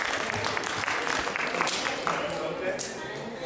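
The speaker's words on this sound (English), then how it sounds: "How about a round of applause for Timothy?" Audience applause at a Kids for Christ event, continuous moderate clapping throughout the short stretch.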